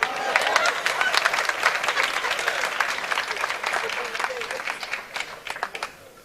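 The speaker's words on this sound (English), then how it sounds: "Go ahead, clap right there." Audience at a lecture breaks into applause, with rapid clapping that is strongest at the start and thins out toward the end, while a voice speaks over it.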